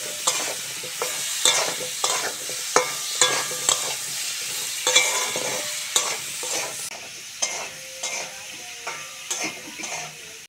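Drumstick stalks and pieces of green mango frying with whole tempering spices for a sour dal, a bright continuous sizzle punctuated by regular, rhythmic spatula knocks and scrapes against the pan.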